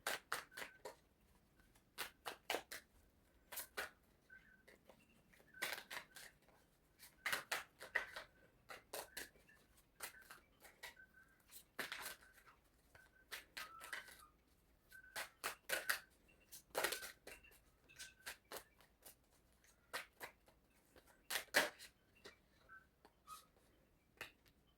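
Tarot cards are shuffled in a quiet room, giving crisp, irregular snaps and riffles that recur in short clusters for about twenty-five seconds, close and fairly soft, with no voice.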